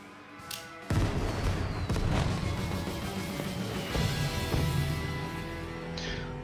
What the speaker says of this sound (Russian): Это он запускает фейерверки и ему кирдык.